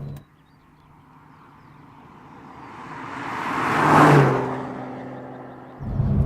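An Aston Martin DB9 Sports Pack with a manual gearbox and an aftermarket back box has no exhaust valve. Its exhaust rises to a deep, loud rev peak and then falls away, with a steady low rumble underneath.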